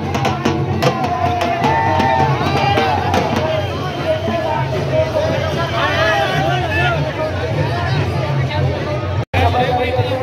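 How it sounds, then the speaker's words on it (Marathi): A dense crowd packs the inside of Jotiba temple in Kolhapur during the Chaitra Yatra, a loud, continuous babble of many voices with scattered shouts, filling the space close around. "खूप जास्त गर्दी आहे आणि हे फक्त मंदिराच्या आतमध्येच आहेत"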